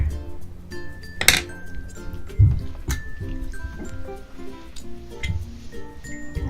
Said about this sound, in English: So I go in with the stick again and try to mix it up